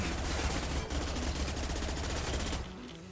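Machine gun fire in a shooter video game, a dense, continuous loud burst of rapid shots that fills the whole stretch and cuts off abruptly near the end.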